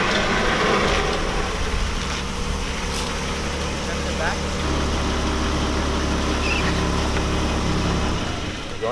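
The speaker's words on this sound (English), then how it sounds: "We're gonna see if he's able to make it up Daniel's driveway." A BMW E30 with tucked wheel fitment, engine running steadily as it tries to climb a driveway, a loud low rumble throughout, with people talking over it.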